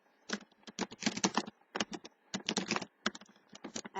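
Fingers type on a computer keyboard in quick bursts of close, crisp key clicks with brief pauses between runs, moderately loud and alone without any talking.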